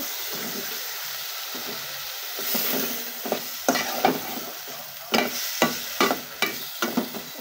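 Cut bottle gourd is stirred into cooked shrimp in a hot pan: a soft steady sizzle, then a run of sharp, rhythmic spatula scrapes and clacks, fairly close, with no talking.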